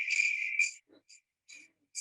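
A crickets-chirping sound effect: a long, bright chirp followed by a few short, shrill bursts separated by silent gaps, loud and alone with no voices.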